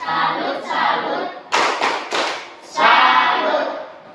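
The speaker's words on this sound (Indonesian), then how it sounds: "Tepuk salut." A school class in Indonesia performs the rhythmic 'tepuk salut' clap, with bursts of many hands striking together in patterned groups, loud and close, alternating with voices.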